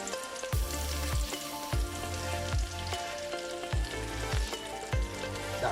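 Breadcrumb-coated seafood crackles and sizzles in very hot oil, a dense continuous frying hiss with repeated low thumps and bursts as pieces shift, close and loud, with no one talking.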